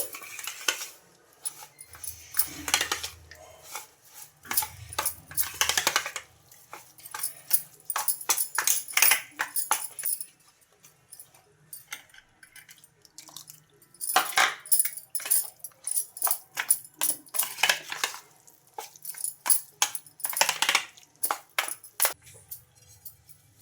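Bursts of a spoon scraping and clinking against a bowl as a thick batter is mixed, separated by quiet pauses, close and moderately loud.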